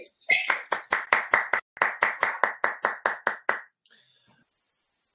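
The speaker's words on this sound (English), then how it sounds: "it's thunderous applause" One person clapping during an online lecture, about eighteen sharp, evenly spaced claps close to the mic in two runs split by a brief gap, then silence.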